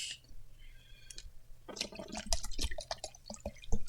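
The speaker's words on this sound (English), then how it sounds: "Stop splashing so much." Water splashing and dripping in a cup while an electrolyte drink is watered down and mixed, a run of irregular clicky splashes building louder toward the end, close by.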